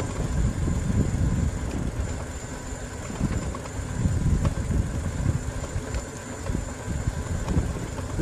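A motorcycle engine running low and steady on a slow, bumpy ride through fall-colored countryside, with a continuous rumble and light wind noise and no talking.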